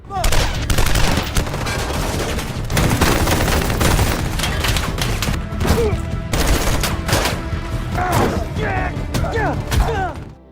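Dense, loud gunfire fills a battle scene in an action film, where a team fights off mafia gunmen allied with soldiers: sustained volleys of shots and thuds with bursts of machine-gun fire, overlapping and continuous throughout.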